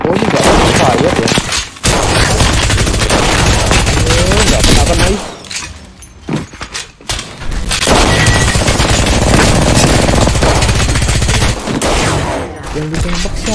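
Rapid bursts of gunfire from the battle royale shooter Apex Legends, loud and dense, with automatic weapon fire running almost continuously and dropping out briefly in the middle, mixed with game sound effects and some talk.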